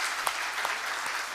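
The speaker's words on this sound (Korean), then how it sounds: "우리 격려의 박수 한번 다시 해주세요" A church congregation applauding during a Sunday service, a dense steady wash of clapping from many hands in a large room.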